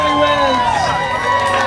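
Wedding guests at Botanica in Oceanside cheer for the newlyweds, a steady, loud crowd roar with whoops and raised voices throughout.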